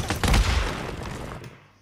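Sniper rifle fire in the PS4 game Days Gone: a loud booming shot bursts out at the start, then rolls off into a decaying rumble that fades over about a second.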